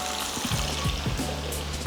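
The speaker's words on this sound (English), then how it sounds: "now we can start deep frying the chicken. Beautiful, you want to hear that sizzle." Chicken pieces deep fry in hot oil, a dense continuous close sizzle and bubbling hiss with no pauses.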